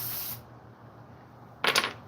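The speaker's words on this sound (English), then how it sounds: "Let me spray the top of this too" Aerosol cleaner sprayed onto the top of a chainsaw carburetor during a rebuild: a brief hiss at the start, a quiet pause, then one short, sharp spray burst near the end.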